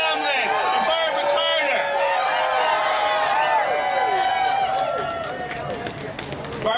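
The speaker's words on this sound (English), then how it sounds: "Can we get a little cheer for Lisa Leggio, Vicki Hamlin, and Barbara" A crowd at an outdoor rally and vigil against the Keystone XL pipeline cheers and whoops together, the overlapping voices rising and falling steadily before easing off slightly near the end.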